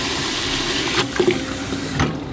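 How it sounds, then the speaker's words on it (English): A hose sprayer blasts tap water into a bag in a backyard, a loud, steady rushing hiss with brief splashy surges, close and continuous throughout with no voices. "So every time I refill this, I nail that bag aggressively with the sprayer."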